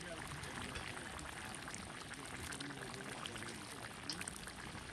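Sauce is poured over fish during outdoor cooking, a faint, continuous liquid trickle and splatter with light crackle, steady throughout and very quiet.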